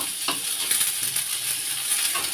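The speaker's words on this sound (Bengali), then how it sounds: "এদিকে টমেটোটা ভেজে নিচ্ছি" Tomatoes fry in a home kitchen pan for a mash, giving a steady close sizzle with light stirring scrapes throughout and no talk.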